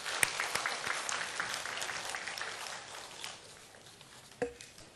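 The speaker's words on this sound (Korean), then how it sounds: "우리 축하의 박수 드리겠습니다." Church congregation clapping in celebration after a Sunday service prayer, a moderate burst of applause at a modest distance that thins out and fades, ending with a single louder thump.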